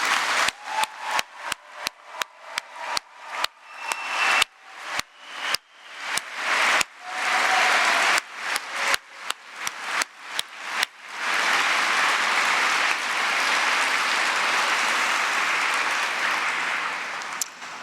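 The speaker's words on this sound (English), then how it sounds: "We have one final round of applause for all the graduates." A convocation audience applauds the graduates. Loud, sharp claps ring out in a rapid, fairly regular pattern before swelling into a sustained, dense roar of applause.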